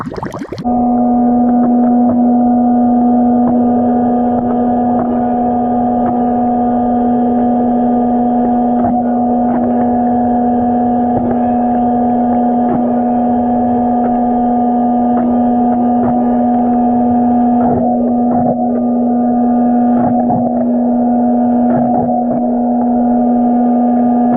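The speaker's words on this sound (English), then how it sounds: "let's get underwater and do some vacuuming" Kraftek Pool Keeper K1 handheld pool vacuum running submerged in a pool, a loud steady motor hum with a strong constant tone lasting throughout, faint knocks now and then and no voices.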